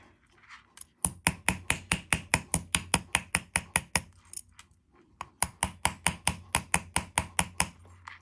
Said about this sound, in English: Just hammer it to make it hard.